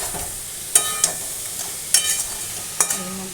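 Ground spices sizzle and are stirred in a pan: black pepper, turmeric, cumin, coriander, chili powder, salt and a little sugar. A soft, steady fry sits under four or five sharp scraping clicks of the spoon, with no speech.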